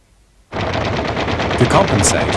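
Rapid machine-gun fire from the nose guns of a B-25 Mitchell bomber, a sudden loud, continuous burst of close shots that starts abruptly after a brief quiet moment and keeps rattling steadily to the end.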